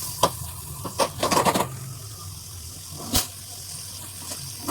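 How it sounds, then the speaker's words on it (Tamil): Paneer cubes sautéing in butter in a pan: soft sizzling with clattering bursts of stirring and spatula scrapes, a cluster of quick knocks then a sharper single clank, close by with no talk. "பன்னீர் கொஞ்சம் நல்லா சாட்டே பண்ணுங்க."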